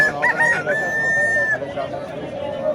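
A rooster crows over the steady bustle of a poultry market at the Sho'ro livestock bazaar in Ko'prik district, Tashkent region, one long drawn-out call standing out against dense background crowd noise and murmured voices.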